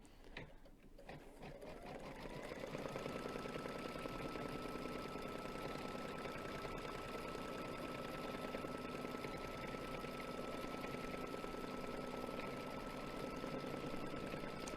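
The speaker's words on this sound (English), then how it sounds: "the Kimberbell tape really helps to hold everything in place while it's stitching." An embroidery sewing machine stitches a Kimberbell design with tape holding the fabric in place, its close, loud, rapid mechanical chatter rising in the first couple of seconds and then running steadily without pause, with no talking.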